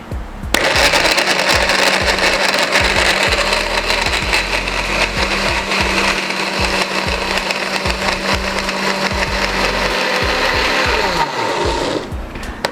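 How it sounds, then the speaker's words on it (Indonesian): A blender grinds spice paste loudly and steadily for about twelve seconds, a dense whirring roar with gritty chopping texture, cutting off near the end. "Oke, bumbunya kita blender."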